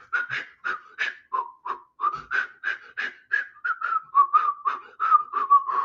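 Someone whistles a breathy melody up close, in short, evenly spaced phrases with audible breaths between the notes.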